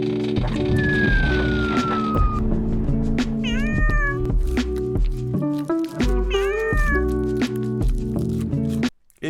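Cats meowing in several drawn-out, rising and falling cries, close and loud, repeated over a steady droning background.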